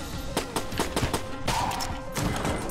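Enemies blowing up in the video game Enter the Gungeon: a quick run of small popping blasts and thumps under busy game effects, fairly faint and with no voices.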